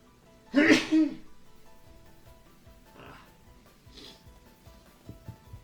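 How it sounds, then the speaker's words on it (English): A single loud, close sneeze bursts out near the start, followed by a couple of fainter sniffs or breaths in a quiet room. "Hold on, I need to sneeze."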